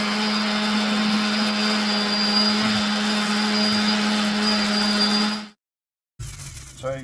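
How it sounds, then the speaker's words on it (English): A palm sander fitted with 40 grit paper grinds steadily against a wooden stick, a loud constant motor whine with a buzzing hum, stopping abruptly before a brief quieter restart. "So I just use a palm sander with 40 grit"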